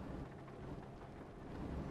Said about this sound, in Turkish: Yağmur biraz denk geldi, kötü denk geldi